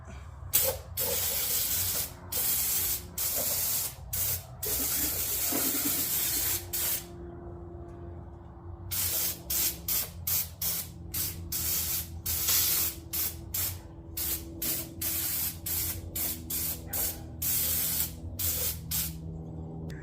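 Repeated hissing bursts from an aerosol can of degreaser sprayed in an Infiniti M45 engine bay, close up, in short uneven pulses with a longer continuous spray in the middle.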